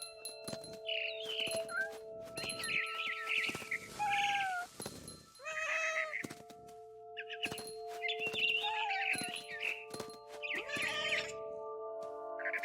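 Repeated meows from a cat in the video game What Remains of Edith Finch, some drawn out and wavering, over a steady electronic hum with clicks and rustles between cries.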